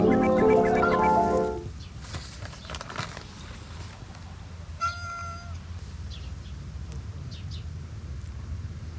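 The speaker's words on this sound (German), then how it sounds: "So, dann füttern wir noch ein paar Katzen oder was?" A cat lets out a loud, close, drawn-out meow at the start, and fainter mews and bird chirps follow over low outdoor background noise on a street in Turkey.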